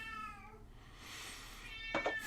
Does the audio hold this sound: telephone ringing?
no